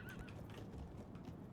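A horse neighs in the medieval strategy game Medieval II: Total War, a short high whinny near the start over a dense, continuous battle din of clatter and rumble.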